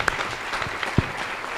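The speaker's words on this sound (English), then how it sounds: "may I ask a little round of applause" Brief applause from a conference session audience for space technology panel members, a scattered patter of claps at moderate level with a couple of sharper close hits.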